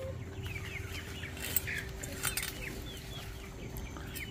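Chickens cluck and chirp in a farmyard, with many birds calling in overlapping short bursts over a low rumbling background.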